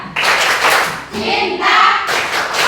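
A standing group clapping through a rhythmic clap routine, loud and close, with bursts of claps broken by brief pauses between phrases and voices mixed in.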